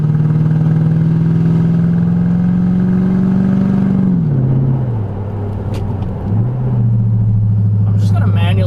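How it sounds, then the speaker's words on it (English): A loud V8 in a Lexus LS400 holds a steady drone while driving, then its pitch drops and wavers through a couple of shifts near the end; no one talks over it. "way too loud fucking V8."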